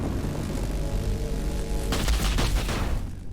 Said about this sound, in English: the bolt shells are actually little tiny rockets that explode on impact